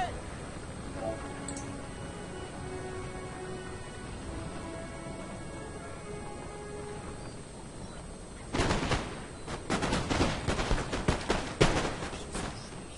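Musket volleys and artillery fire from a Napoleonic-era battle in Napoleon: Total War; after quiet talk, a dense barrage of loud, cracking blasts erupts and continues in rapid, overlapping bursts.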